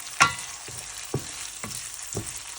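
Onion frying in a pan with sharp scraping stirs at roughly half-second intervals over a low, steady sizzle, close up and without voices.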